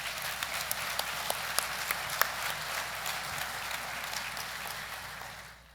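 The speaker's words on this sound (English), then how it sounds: "Can we have one more round of applause for all of our speakers this morning?" A ballroom audience at an engineering conference general session gives a sustained round of applause for the speakers, with dense, even clapping that fades out at the end.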